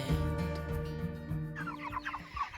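Chickens in a fresh grassy pen give short clucks and murmurs near the microphone over a steady tonal background hum.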